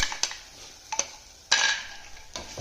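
Grated coconut, ground cashew and poppy seeds frying in a pan for bottle gourd kurma, with a soft sizzle under sharp scraping and clinking strokes of a spoon against the pan, close and irregular.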